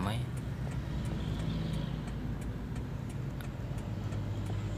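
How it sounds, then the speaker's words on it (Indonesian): Busy road traffic heard from inside a moving automatic car joining a through road, a constant broad rumble of engines and tires with occasional faint ticks, while someone talks over it. "Ini agak ramai jalannya"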